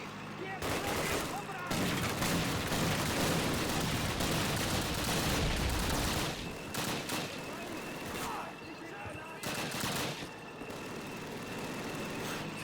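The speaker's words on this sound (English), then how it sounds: "Machine guns! Machine guns ready!" Machine guns in a video game battle rattle off in dense, loud, sustained bursts of automatic fire, overlapping almost continuously with only brief gaps.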